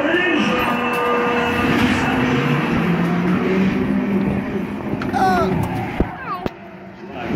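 Go-kart engines at the start of a race on a kart track, a loud steady droning roar that fills the whole stretch without letup, with a few sharper knocks near the end and voices partly under the noise.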